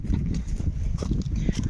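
Horses walk up a hillside trail in a horse area, their hooves giving a quick, uneven clip-clop that sounds close and fairly loud.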